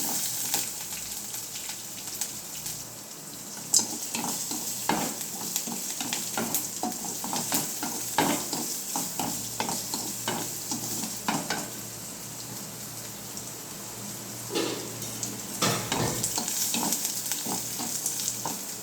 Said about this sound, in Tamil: அடுத்தது சின்ன வெங்காயம் போட்டு வதக்கணும்